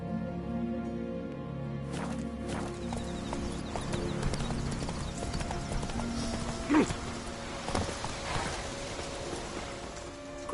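Hooves of a horse galloping in The Witcher 3 pound in a steady clip-clop rhythm throughout, close and fairly loud, with game sounds and a brief whinny-like cue mixed in.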